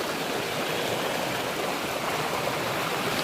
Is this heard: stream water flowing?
yes